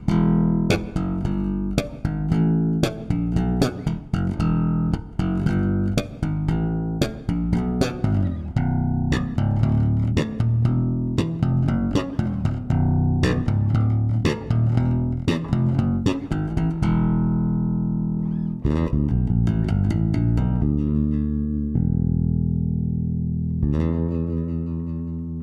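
An Elrick Expat eVolution 5-string bass guitar is played with thumb slaps in a brisk, punchy run of plucked notes, bright attacks over deep sustained tones, closing with a few slower ringing notes and a final hit; no voices.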